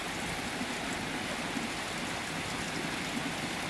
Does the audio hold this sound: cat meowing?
no